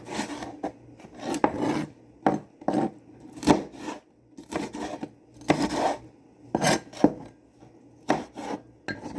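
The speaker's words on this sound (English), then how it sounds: "So I'm just chopping it like that." A knife chops a red bell pepper during home cooking of curry chicken, giving a close, irregular run of crisp, rasping cuts in quick bursts, with no talking.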